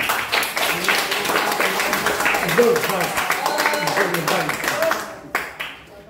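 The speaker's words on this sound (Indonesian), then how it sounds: "saya beri aplaus pribadi dari saya" A university lecture audience claps in a brisk, dense burst, mixed with talking, before the clapping cuts off abruptly near the end.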